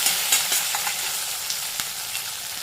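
Green chili and curry leaves sizzle in hot oil in a pan while being stirred, a steady close crackle with a few sharp spoon scrapes and pops.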